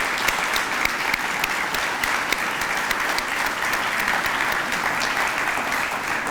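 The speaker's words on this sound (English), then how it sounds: "Let's have a round of applause for all these people." Steady applause from an audience at a regional annual business meeting in Virginia, dense clapping held at an even level throughout without any voices on top.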